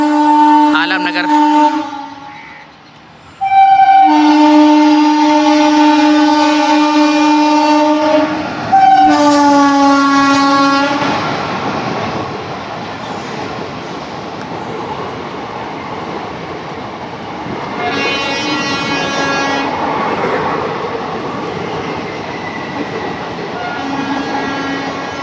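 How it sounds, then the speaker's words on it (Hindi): The Rajya Rani Express from Lucknow Junction to Meerut City passes Alamnagar station, sounding a loud, sustained horn in several long blasts, followed by the heavy roar and rhythmic clatter of the coaches rolling by close up. "तो राज्य रानी एक्सप्रेस जा रही है, देखिए लखनऊ जंक्शन से मेरठ सिटी जाने वाली"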